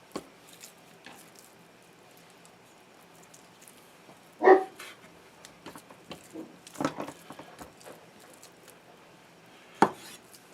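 A dog in Wisconsin barks in a few scattered bursts at a moderate distance, mixed with light clinks and knocks of kitchen activity.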